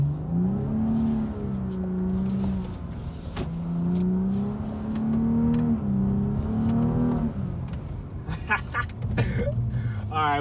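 AWD BMW being street-drifted during a snowstorm, its engine revving in rising and falling surges, loud and close, ending with clattering noises.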